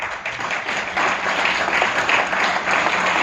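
Audience applause at a live mentorship session, a full, rolling crowd clapping that builds after the first second and holds steady and loud throughout.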